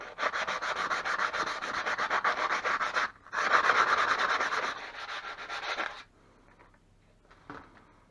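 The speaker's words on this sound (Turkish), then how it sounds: "Önce zımparayla şunun küfünü bir çıkartalım." Close, steady scratchy rubbing of sandpaper removing rust from a tractor's metal tow bar in two long passes with a brief break, then it stops, leaving faint handling noise.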